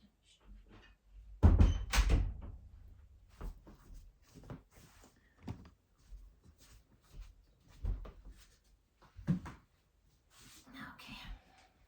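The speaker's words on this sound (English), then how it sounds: "I'm just gonna close the door." An indoor door is pushed shut in a quiet room during a restorative yin yoga session, giving one loud, close thud near the start. Faint rustles, small knocks and soft movement follow in otherwise hushed surroundings.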